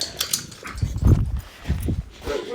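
A dog at a kennel at bedtime makes close, low snuffling and shuffling sounds in a few short bursts.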